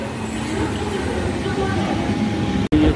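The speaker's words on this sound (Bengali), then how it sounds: "কিন্তু শান্তিপুর লোকাল ঢুকছে। এই যে আপনাদেরকে দেখাচ্ছি, ট্রেন ঢুকছে।" A Shantipur local train pulls into a station with a steady low rumble and rattle, loud and close, and a brief sharp dropout near the end.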